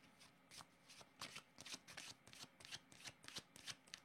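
Tarot cards are shuffled steadily, a close run of quick riffling flutters and soft slaps that repeats rhythmically for several seconds.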